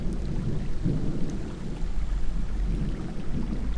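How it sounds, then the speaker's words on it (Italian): Low rumbling thunder from an approaching thunderstorm rolls continuously outdoors, with a steady rain-like hiss layered over it and no talking. "Sentite, dai, i tuoni?"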